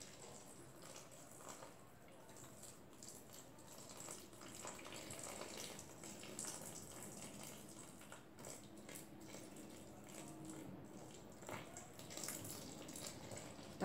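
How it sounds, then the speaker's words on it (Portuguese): Hot water poured into a homemade soap mixture of alcohol, vinegar and oil, a steady liquid splashing and gurgling that runs continuously at moderate level with small fluctuations throughout. "mais um litro de água quente."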